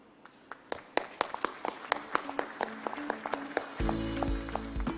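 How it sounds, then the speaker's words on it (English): Scattered individual claps from an audience at the World Water Forum, a sparse irregular patter before a sustained tonal sound enters near the end. "let's give applause to the youth representative of the Secretariat"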